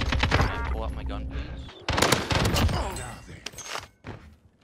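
Automatic gunfire from a weapon in the video game Call of Duty Warzone, loud bursts of rapid shots in two main volleys with brief gaps, close and dense, mixed with game sounds and voices.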